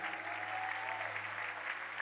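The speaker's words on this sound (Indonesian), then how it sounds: "Tepuk tangan buat Tuhan kita" A church congregation at a Christmas Eve service claps in praise, a steady, fairly faint patter of many hands under a low sustained musical drone, continuing evenly throughout.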